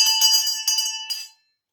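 A bell rings out in a few bright, ringing strikes with sustained metallic overtones, then decays and cuts off into silence.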